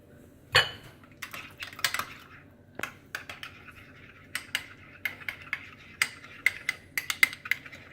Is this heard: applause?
no